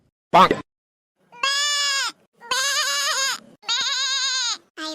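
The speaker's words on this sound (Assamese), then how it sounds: "এনেকে কোনোবাই ছাগলী লৈ গ'লে মানে আমাৰ ঘৰকেইটা এনেকে চিঞৰে" A goat bleats loudly and close by, four drawn-out wavering calls with short gaps between them, after a brief sharp noise at the start.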